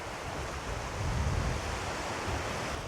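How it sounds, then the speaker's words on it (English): Sea wind blows across the shore at Shanklin beach on the Isle of Wight, a constant hiss and rumble blended with the wash of surf, with a brief swell in the middle and no talk. "What's crazy is that wind you couldn't feel when I was, you know, a bit further back on the beach."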